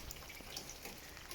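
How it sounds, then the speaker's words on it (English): Water draining from a straight-down downspout pipe out onto the ground outside a house during a snowy Buffalo, New York blizzard, a steady close trickle and splash with faint dripping throughout. "So the water is coming outside."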